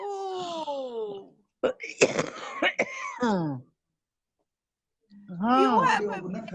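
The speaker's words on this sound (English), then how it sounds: "You have a bad cough." A woman, unwell, coughs harshly several times in short rasping bursts close by, between moaning, strained vocal sounds and spoken exchanges.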